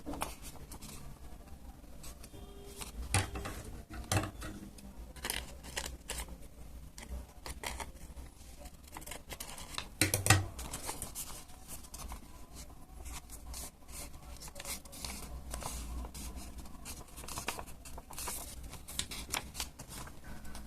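Scissors cut folded paper for a Naruto-inspired Haku mask: quiet, close snips and crisp rustling paper handling, with a few sharper clicks and rubs scattered across the stretch.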